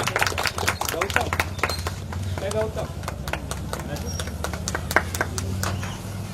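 Applause at a library celebration festival in a village: a crowd claps in quick, scattered, overlapping bursts that run steadily throughout, with low murmuring voices underneath.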